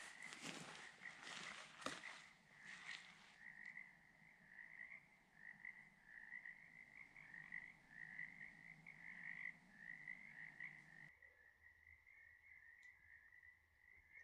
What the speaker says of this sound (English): Those frogs, those are going to make it hard to sleep.